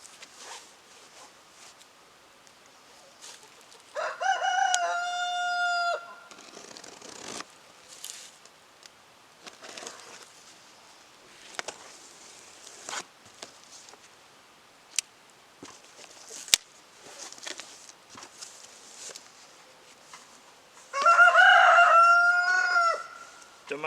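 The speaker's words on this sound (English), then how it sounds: "Don't mind the birds in the background." Two loud rooster crows stand out over a quiet background of scattered clicks and rustles, with a few fainter bird calls in between.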